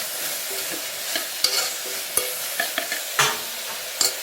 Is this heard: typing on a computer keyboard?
no